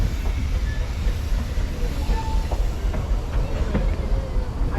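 A Vale of Rheidol Railway narrow-gauge train leaving Aberystwyth runs with a steady loud rumble and hiss, faint wheel clicks and squeals rising above the continuous rolling noise.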